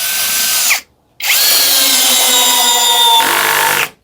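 ECOSEN 16V cordless drill whining loudly and close as it drives a screw into wood, two high-pitched bursts split by a short pause, the second ending with a shift in tone as the clutch engages.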